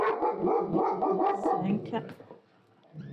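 A pet dog barks and yips several times in quick succession, close to the microphone, mixed with someone speaking during a tarot card reading at home; the barking fades out near the end.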